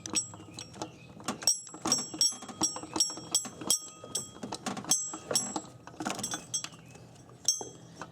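A ratchet working loose the bottom bolt of a 2005 Honda Odyssey power steering pump, with quick metallic clicking bursts and tool clinks repeating in short runs, close by with no talk.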